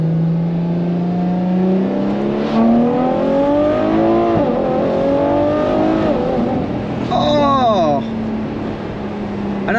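After a downshift, the V12 of a Ferrari F12 TDF track car revs loudly, its pitch rising and falling in swells with a sharp blip near the end, all heard from inside the cabin.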